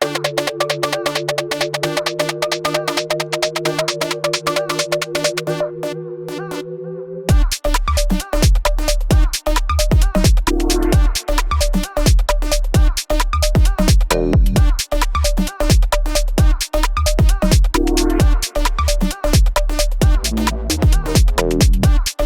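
A loud UK garage dance track: sustained synth chords open, then a punchy beat with deep bass, crisp hats and choppy shuffling rhythm kicks in.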